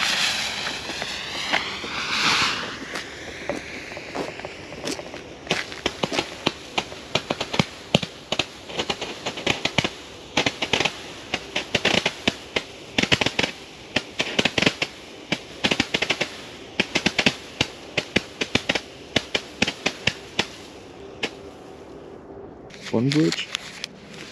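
A Weco 100-shot firework battery fires at New Year's in a long, rapid string of sharp cracks and pops. The shots are loud and close and run for over twenty seconds, with people talking now and then.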